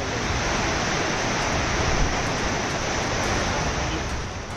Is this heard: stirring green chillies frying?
no